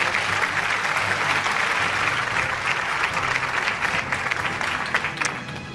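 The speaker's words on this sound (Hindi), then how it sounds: "भरपूर तालियां होनी चाहिए मुकर्रम के लिए" Steady, dense applause from an award-show audience at a news network's annual ceremony, filling the room at an even level before thinning slightly at the end.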